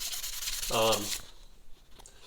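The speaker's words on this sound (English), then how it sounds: "I'm just going to take a piece of this 600 grit, and I've got the little knob here, and we'll see what it'll do" Surface rust is rubbed off a metal knob with a small piece of 600 grit sandpaper, giving a brief close scratchy rasp, with a short voice sound in the middle.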